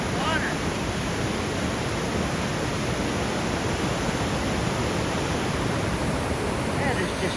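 Powerful rushing water pours over a waterfall among boulders in Western New York, a steady, loud, unbroken roar that fills the whole clip.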